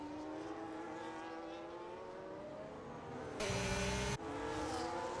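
Formula 1 cars in the F1 25 racing game at the British Grand Prix, engines droning steadily with rising pitch as one closes in to overtake, plus a brief loud burst of broadband whoosh near the end.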